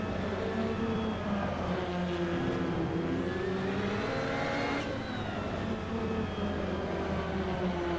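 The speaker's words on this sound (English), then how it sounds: "You can hear the tires as I'm going around the corners, as I start to understeer ever so slightly." A Ferrari 288 GTO Evoluzione in the racing game Assetto Corsa, its engine droning with rising and falling pitch through corners while faint tire squeal from slight understeer sits underneath, steady and moderately quiet.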